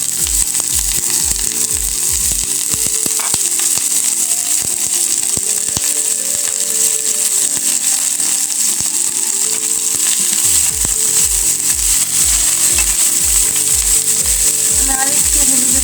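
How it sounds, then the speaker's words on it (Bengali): Chopped garlic, onion and green chilies fry in about two tablespoons of oil in a kadai. A loud, steady sizzle runs throughout, with occasional scraping and stirring taps. "আর এবার কেটে রাখা রসুন, পেঁয়াজ, কাঁচামরিচগুলো ভেজে নিচ্ছি।"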